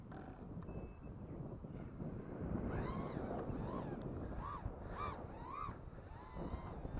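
Wind buffets steadily around a 4S 450-size quadcopter drone in outdoor flight, a continuous broadband roar of gusts over the microphone, with faint whining tones from the motors rising and falling as it manoeuvres.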